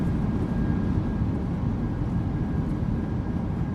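Steady low roar of an airliner's thrust reversers during landing rollout in Microsoft Flight Simulator 2024, a PMDG jet arriving at Molde: a continuous, dense rumble with no breaks, fairly loud, and no voices.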